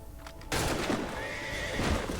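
A horse in the video game Assassin's Creed III gives a loud, drawn-out whinny after a soft opening, with hoof clops mixed in.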